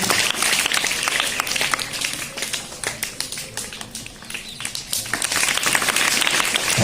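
An audience at a village Independence Day cultural programme applauds with sustained, dense clapping that dips briefly in the middle before swelling again.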